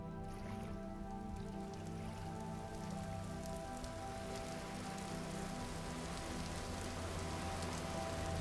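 Steady rain patters across the ground in the video game Vintage Story, a continuous dense hiss that holds an even loudness throughout with no voices.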